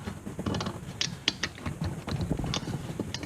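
A half-inch wrench works loose the generator on a Canadian Coleman 335 lantern on the workbench, giving close, irregular metallic ratchet clicks and small creaks in quick bursts, with no talking.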